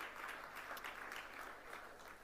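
Applause from an audience at a talk on freedom of choice, a broad steady wash of clapping at moderate level that holds evenly for the whole stretch without any voice over it.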